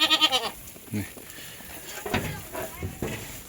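Close, wavering bleats of sheep and goats, including Arashan Gissar breed lambs for sale, open the clip, followed by a few shorter animal calls mixed with voices nearby.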